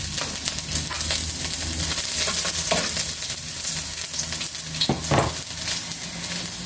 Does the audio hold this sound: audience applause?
no